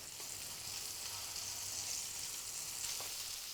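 Shallots searing on a hot pan surface for a tarte tatin, giving a steady, dense sizzle throughout with a couple of faint clicks. The sound is close and even, with no talking.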